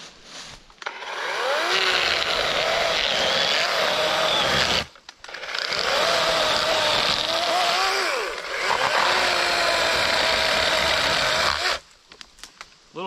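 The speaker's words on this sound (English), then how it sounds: "Little chainsaw is pretty good." A small, slightly underpowered chainsaw revs and cuts steadily through a dead tree in three long bursts, with brief drops to idle between them, loud and close.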